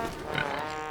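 Pigs on a cartoon pig farm give a brief, close, nasal oink-like grunt lasting about a second.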